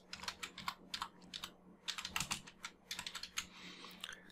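Fast, light clicking of a computer keyboard as a search term is typed, with rapid irregular keystrokes in quick runs and brief pauses, close and quiet.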